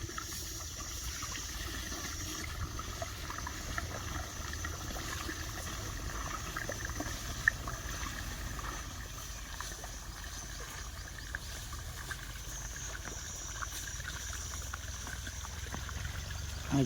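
Irrigation water running into a farm field in Gujarat, with a steady, soft rushing and gurgling that continues without a break, wind in the background and no one talking.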